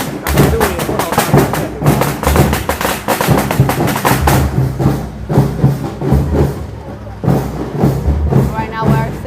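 Firecrackers at a Chinese Spring Festival parade of the gods go off in a dense, loud string of rapid bangs and thuds that continues throughout with brief pauses.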